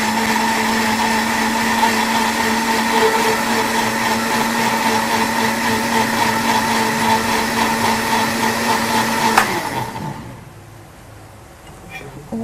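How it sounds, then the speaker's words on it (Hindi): A blender whirs steadily for about nine seconds as it blends a drink with fresh cream, a loud continuous motor hum with high whine, then cuts out and winds down into near quiet. "और इसके बाद हमने इसको बहुत अच्छा सा ब्लेंड कर लेना है।"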